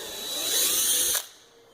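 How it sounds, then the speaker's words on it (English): A power drill whirs at low speed through plastic for about a second, a steady high whine that cuts off abruptly, leaving a faint hum. "I just basically turn the drill on low"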